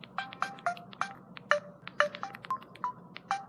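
Flip phone keypad tones from a video game set in 2005: about thirteen short electronic beeps in quick, uneven succession, each at a different pitch. They are close and clear, with no talk.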